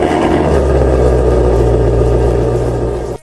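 A Ford GT350 engine in the Roblox game Driving Empire runs loud and close, a steady deep rumble with a rising rev midway, then cuts off abruptly at the end.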